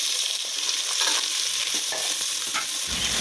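Onions sautéing in a pan with ginger garlic paste and green chillies, a loud continuous sizzle with stirring scrapes throughout and a low thud at the end.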